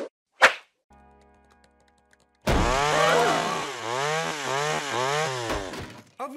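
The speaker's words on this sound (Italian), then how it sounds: "Ho vinto una motosega!" Chainsaw in a Family Guy cartoon scene: a sharp whip-like crack, a brief quiet hum, then the saw roars to life and revs up and down in several loud, rhythmic surges.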